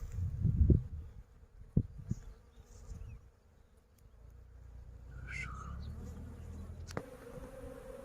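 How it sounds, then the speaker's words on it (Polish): Soft buzzing of many young honeybees flying close by at their hives, with a steady low hum, a few brief louder passes and light rustling. "A przy ulach oblocik młodej pszczoły"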